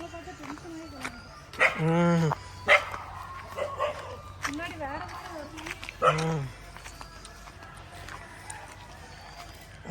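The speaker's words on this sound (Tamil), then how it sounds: "நாயினா குலைக்க தான் செய்யும்" Dogs barking and yipping at a village home during a temple festival near Nagercoil, with a few loud nearby barks and yelps mixed among people talking.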